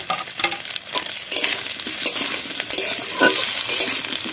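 Whole green chillies fry in a ginger-garlic masala, with vigorous close stirring and scraping over a continuous crackling sizzle.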